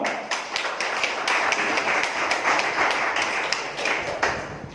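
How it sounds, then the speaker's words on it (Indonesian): An audience claps hands in a steady, dense patter that runs through the whole stretch, fairly loud and close, with no voices over it. "Tepuk tangan dong."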